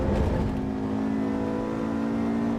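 A Lamborghini engine in the racing game Assetto Corsa Evo revs and hums in a steady, close mechanical tone with no talking, holding a sustained pitch over a couple of seconds.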